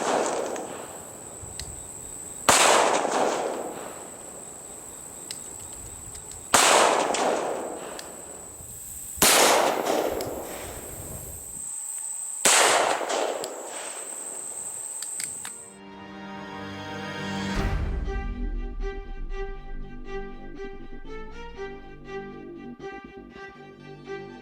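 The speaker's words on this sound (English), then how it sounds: "The gun that we're going to be using in today's test is going to be your classic SIG P226." Shots from a SIG P226 9mm pistol firing into ballistic gel, four loud, evenly spaced cracks with ringing decay over a steady hum, then quiet tonal sounds afterward.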